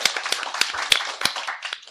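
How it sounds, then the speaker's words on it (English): A small audience claps briefly, a few scattered, uneven hand claps close by over about two seconds. "Let's have a round of applause for Jack."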